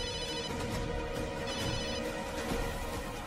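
A telephone rings on and on with no one picking up, a steady loud electronic ringtone filling the space, with no voices over it.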